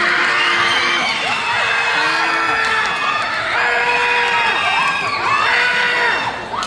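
A cosplay contest audience at a fan festival erupts in loud, close cheering, full of high whoops and shrieks rising and falling in waves, sustained for several seconds.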